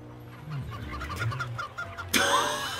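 Animated hens cluck in a short run of soft, rhythmic clucks and low murmurs, fairly close. A sudden bright, harsh burst cuts in near the end.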